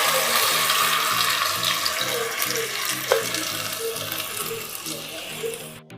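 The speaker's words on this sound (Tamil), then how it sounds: "அந்த விழுதை கொஞ்சம் கொஞ்சமாக ஊற்றுங்க." Ground lentil paste poured into hot oil with curry leaves for paruppu urundai kuzhambu, giving a steady, close sizzling and bubbling wash with a faint clink partway through.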